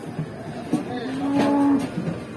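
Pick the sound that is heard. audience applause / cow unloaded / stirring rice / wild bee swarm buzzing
cow unloaded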